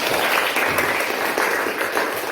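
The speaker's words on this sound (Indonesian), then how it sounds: "Bagus sekali. Tepuk tangan." A school class claps for a classmate's answer, a dense, close patter of many hands that stays loud and even over a couple of seconds.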